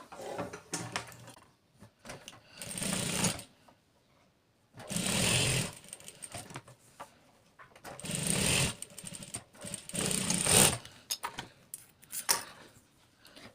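An electric sewing machine stitches cotton fabric for a dori cap in three sustained whirring runs, each a few seconds long, separated by quiet pauses with small handling clicks; no talking.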